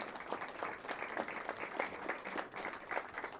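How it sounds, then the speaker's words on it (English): Steady audience applause for the judges at a competition round, an even wash of many hands clapping throughout at moderate level with no talking. "Give our judges a big round of applause."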